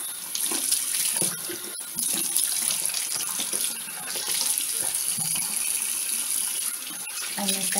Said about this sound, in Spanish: abrimos el grifo y venimos con agua